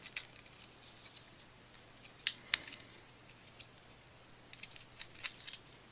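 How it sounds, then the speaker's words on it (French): Plastic panels on a DX9 Xtal-18 transforming toy figure being opened, giving a few faint, close, sharp clicks and snaps spread across a quiet, hissy background. "On va ouvrir ces deux panneaux."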